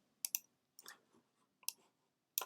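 Several quick clicks of keys on a computer keyboard, a short burst of typing followed by pauses and another few taps, close and fairly quiet with no talking.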